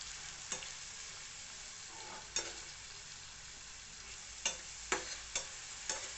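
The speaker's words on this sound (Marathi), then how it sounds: "मिश्रण आपण लाल होईस्तोवर परतून घेऊया" Onion and two green chillies sauté in a pan for chole curry, a soft, even sizzle punctuated by several sharp spoon clicks and scrapes against the pan.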